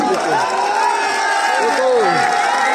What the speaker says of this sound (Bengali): টুকু টুকু টুকুরে হাততালি দেন সবাই